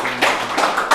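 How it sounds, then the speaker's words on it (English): Sharp, distinct claps from a small audience at a chess debate event, four or five close, separate hand claps spaced unevenly across a brief moment, without any speech. "can we please give a round of applause?"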